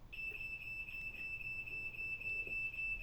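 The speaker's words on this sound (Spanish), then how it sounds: "Esta fue una alarma que sonó y me distrajo." A steady electronic alarm beeps on a single high pitch through the whole stretch, fairly faint and continuous, sounding in a room during a tango music workshop with no one talking over it.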